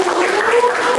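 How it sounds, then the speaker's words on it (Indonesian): Classroom applause from students at the close of a school lesson, a steady dense patter of many hands filling the whole second without a break. "Tepuk tangan untuk"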